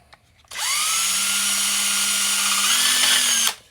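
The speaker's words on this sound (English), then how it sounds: "Drilling holes in this." A cordless power drill boring holes into a plastic DeWalt battery holder, one continuous close whining run of about three seconds that starts abruptly, holds a steady pitch with a slight shift near the end, then cuts off.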